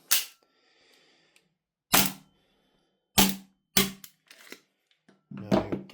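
A CTM FUKU-2 AAP-01 airsoft pistol dry-fired with no gas gives about five crisp, isolated mechanical clacks spaced a second or so apart, then a quicker cluster of clicks and handling rattle.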